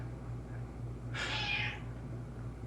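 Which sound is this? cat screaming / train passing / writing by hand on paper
cat screaming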